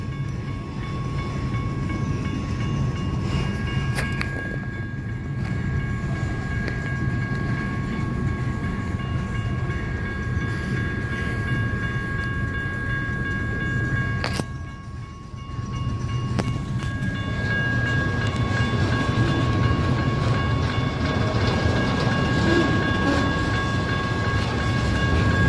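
A long BNSF freight train with trailers rumbles past steadily with a low roar and faint rail clatter, continuous throughout, and a thin high whine running on top.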